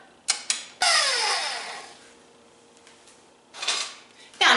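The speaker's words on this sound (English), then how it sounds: "So go ahead and just mix it up." Cake pop batter mixed in a bowl, heard as a few sharp knocks followed by a long scraping sweep that fades, then another brief scrape, close up and without talk.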